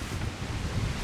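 Wind gusts through woods on a chilly afternoon while logs are cut and winched for firewood, a steady broadband rush that rises and falls softly, close to the microphone, with no voices.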